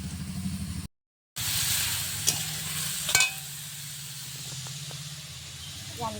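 Potatoes and mushrooms frying in hot oil in a home kitchen, a continuous sizzle and hiss with a few clanks of stirring, and a brief silent gap near the start.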